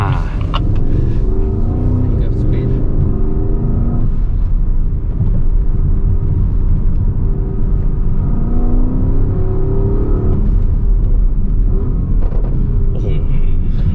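A Porsche Taycan Turbo S electric car picks up speed, a steady loud rumble with rising whirring tones swelling through the run, while someone talks over it throughout.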